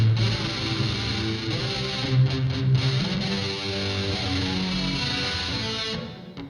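Distorted electric guitar chords ring out through a pedal effect, sustaining with a washy, reverberant tail before fading.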